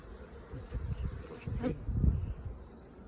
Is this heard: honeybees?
yes